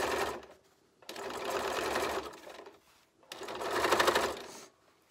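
A sewing machine stitching fabric for a farmers market bag, running in two sustained bursts of rapid close whirring with a short quiet pause between them.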